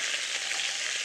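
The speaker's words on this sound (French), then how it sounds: "il fallait bien attendre que ma casserole soit bien chaude et l'huile bien bouillante, de façon à ce que le lapin caramélise bien" Rabbit pieces frying in very hot oil in a saucepan, a dense steady sizzle close by with no pauses.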